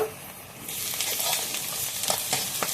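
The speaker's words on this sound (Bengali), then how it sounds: "এখন এগুলো ভালোভাবে ভেজে নেব।" Garlic paste and ginger paste frying in hot oil for a homemade tahari, giving a loud, steady sizzle that rises sharply after a brief quiet moment, with light stirring clicks and no speech.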